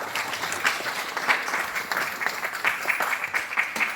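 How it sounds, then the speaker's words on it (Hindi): Audience applause at a meeting, a steady dense clapping from a crowd in an indoor hall that carries on for the whole stretch without any talking. "जबरदस्त ताली बजा दो"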